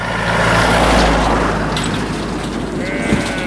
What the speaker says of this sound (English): Just another car coming.